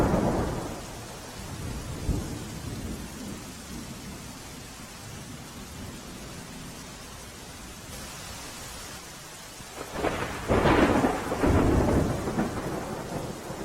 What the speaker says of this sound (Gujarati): મોડાસાના સરડોઈ ગામે ધોધમાર વરસાદ વરસ્યો